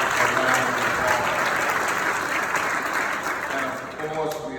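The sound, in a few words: audience applause at commemorative service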